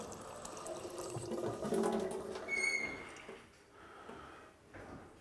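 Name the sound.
pouring water into rice cooker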